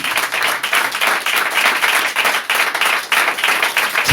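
A church congregation applauds with dense, lively clapping that continues throughout, close and loud, with no talk over it.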